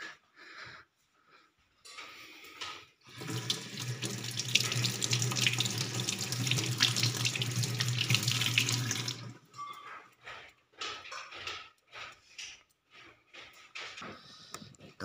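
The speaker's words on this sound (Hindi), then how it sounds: "तो गाइस अभी हाथ धोना पड़ेगा।" A tap runs steadily for about six seconds while hands are washed under it before dinner, with splashing water loud and close, framed by quieter handling sounds and breathing before and after.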